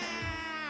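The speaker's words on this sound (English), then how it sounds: "you can see Angel holding a cat" A cat gives one short, clear, drawn-out meow in the film Bad Boy Bubby, close and alone with no speech.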